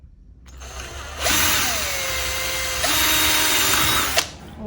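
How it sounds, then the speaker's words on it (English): Power drill with a bit boring through pegboard, starting with a short whir, then a sustained loud grinding drill run, a brief dip and a second push, ending with a sharp clunk as the bit breaks through. "Now I'm gonna put my other drill bit on."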